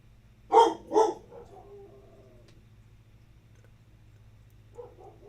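Bella the dog gives two loud, close barks in quick succession on command, then falls quiet before a softer bark near the end.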